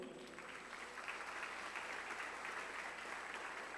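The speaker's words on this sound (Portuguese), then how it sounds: "Vamos aplaudir Jesus, irmãos?" A church congregation applauds steadily throughout, with dense clapping held at an even, moderate level from start to finish.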